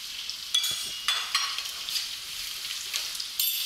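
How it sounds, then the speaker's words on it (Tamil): Ginger garlic paste frying in a pan for tomato rice, with a steady close sizzle and a few light stirring scrapes spaced through it. "இப்போது இஞ்சி பூண்டு பேஸ்ட்டு போடுறேன்"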